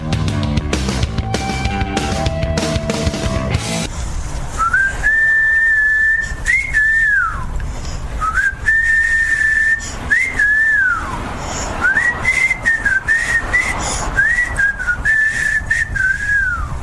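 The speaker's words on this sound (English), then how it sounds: "You want to give the whistling a rest for a little bit?" Someone whistles a tune in long, wavering melodic phrases with short pauses between them, after a brief burst of music at the start.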